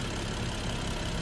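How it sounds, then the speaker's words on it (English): A BMW 3.0L engine idles after about ten minutes of running at normal temperature, giving a steady, even broadband hum with no change over the short stretch and no voices. "This engine has been running for about 10 minutes."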